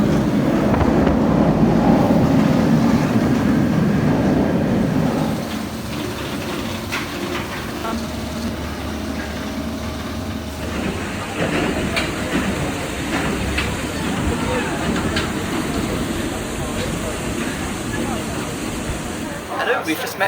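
A monorail train runs with a loud rushing rumble that eases after about five seconds into a steadier hum, with a high whine later and people talking throughout.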